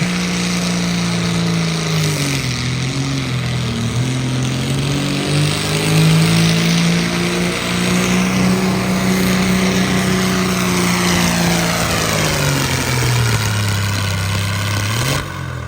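A Doughboy pulling tractor driven by Dan Kirby roars at full power at the start of a high-horsepower tractor pull, a loud, sustained engine note that climbs and wavers in pitch before dropping off sharply at the end.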